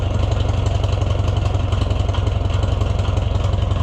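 An Oliver 1250 tractor engine idling after a fuel system cleaning, a steady loud rhythmic chugging with even firing pulses, close by and without voices.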